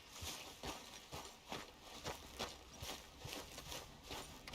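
A horse's hooves clip-clopping in Red Dead Redemption 2, a steady, even rhythm of faint, crisp hoof strikes continuing throughout without talk.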